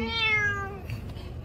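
A cat meows once, a clear drawn-out cry with a falling pitch that fades after about a second, then quiet background.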